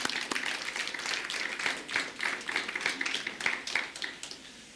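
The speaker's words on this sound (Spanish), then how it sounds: "Denle un aplauso, mujeres, lo hicieron muy bien" A church audience applauds the women, with dense, moderately loud clapping that runs the whole time and a voice faintly under it.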